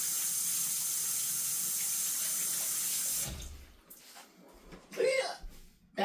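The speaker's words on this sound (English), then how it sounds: "Let me wash my hands." Water runs steadily from a sink tap during handwashing, a loud continuous hiss that stops abruptly, followed by splashes and handling noises as the hands are rinsed.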